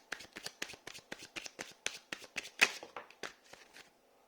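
Tarot cards are shuffled by hand in a quick series of about fifteen crisp, close riffles and slaps, one stronger snap near the middle, quiet and with no talk.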